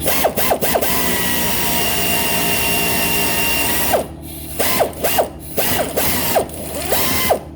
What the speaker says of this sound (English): I'm gonna use a air ratchet